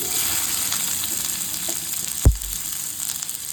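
Garlic and onion frying in about two tablespoons of oil, a steady hiss with a single sharp clatter of a utensil near the end, no speech.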